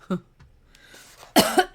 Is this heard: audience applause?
no